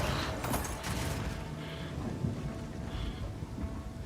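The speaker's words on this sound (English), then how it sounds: "Stop throwing lightning bolts at me." Thunder and rain from lightning bolts hurled in a video game, a steady rumbling wash with crackling strikes throughout, close and fairly loud with no talking.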